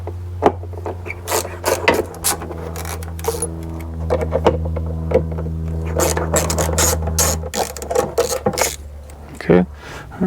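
Ratchet clicking in repeated short bursts as T30 bolts are backed out on a Jeep JK rear liftgate, close and fairly loud, with a steady low hum underneath.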